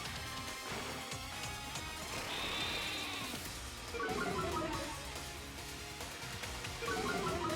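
Synthesized sheep Pokémon cries bleat in Pokémon Shield during a battle, wavering calls layered over game music and sound effects, with repeated chirpy bursts later on.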